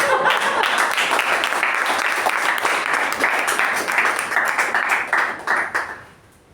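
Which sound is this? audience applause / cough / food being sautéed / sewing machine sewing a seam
audience applause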